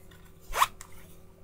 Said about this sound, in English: and then it has like a little zipper part